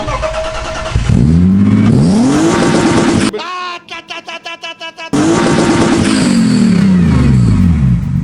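A loud BMW engine with new exhaust manifolds revs hard with rising exhaust roar, drops into a choppy idle with popping bursts, then revs up strongly again.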